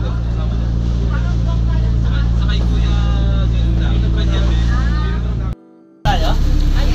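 A loud, steady motorboat engine drones close by on the open sea off Batangas, arriving at Isla Verde, with water and wind noise, then cuts out briefly before roaring again.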